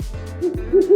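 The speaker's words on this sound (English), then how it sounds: "Some animals, like owls, love the night because they can see in the dark." Owl hooting at night, a few low, rounded hoots repeating in a slow rhythm, fairly close and clear with no talking.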